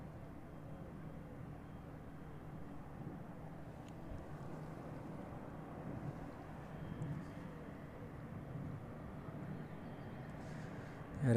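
An illuminated airliner arriving from Faro on approach to the runway at East Midlands Airport in the evening, a low, steady engine rumble heard from a distance with light wind noise and no talk.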